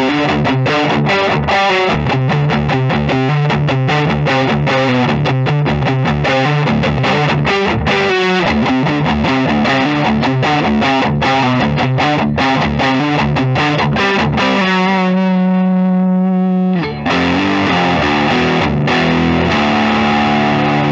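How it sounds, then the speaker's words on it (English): A 2021 PRS SE Zach Myers signature semi-hollow electric guitar played through distortion, with dense driving strummed chords and riffs, a brief sustained ringing chord near the end, loud and alone with no talking. "now let's go ahead and try some distortion."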